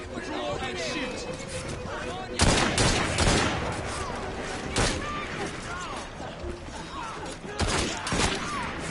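Rifle volley fired in Assassin's Creed Syndicate, with sharp broadband gunshot bursts at roughly 2.5, 3.3, 4.8 and 7.7 seconds over a busy game soundscape and chattering voices.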